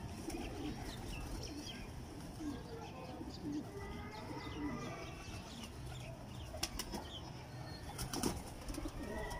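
Breeder pigeons coo softly and faintly in a loft, low murmuring calls over a steady background, with a couple of sharp wing-flap bursts near the end and a voice talking quietly.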